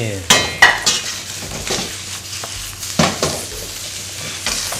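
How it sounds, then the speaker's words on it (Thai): Egg and seafood stir-fried in a pan for Thai dry rice with seafood, with a steady sizzle broken by several sharp clanks and scrapes of a utensil against the pan, close and loud. "ผัดให้ไข่หอมก่อนกับซีฟู้ดของเรานะ"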